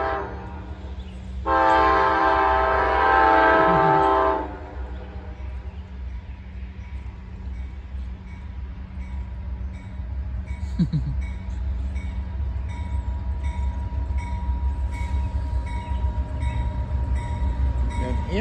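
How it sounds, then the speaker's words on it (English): An Amtrak passenger train passes through Toccoa, Georgia, opening with a loud sustained multi-note horn blast, then a steady rumble of wheels and cars with a short squeal, heard nearby and without talk. "Here comes Amtrak."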